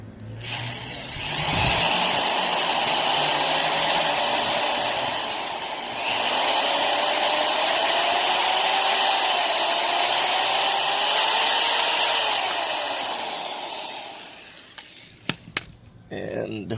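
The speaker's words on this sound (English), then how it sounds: "drill into the top" A power drill bores into the top of a Nissan 350Z crankcase breather/PCV part, a steady whining drill run with rising pitch lasting about fourteen seconds, a brief pause midway, then a few sharp clicks and knocks as it stops.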